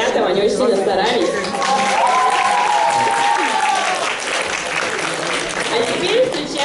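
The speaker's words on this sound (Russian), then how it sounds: "Аплодисменты ребятам" An audience at a school New Year's KVN comedy contest between teachers and students claps for the performers, dense continuous applause with cheering and a held voice or tone rising over it, steady and loud throughout.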